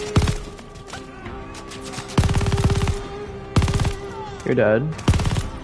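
Bursts of rapid MG42 machine-gun fire in the Call of Duty Vanguard shooter, loud and close: several short volleys and one longer sustained burst. Someone speaks briefly between the bursts.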